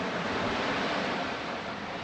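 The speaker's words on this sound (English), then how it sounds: "here I am with a massive body of water behind me coming in quickly" Sea waves rolling in against a rocky coast with chiselled rock, a steady, full surf roar with some wind, close and loud with no pauses.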